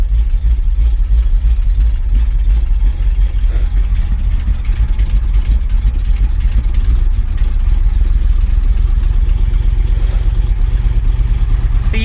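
An old International truck engine running at high idle after a cold start in snow, a loud, steady, rumbling drone with faint mechanical clatter and no pauses.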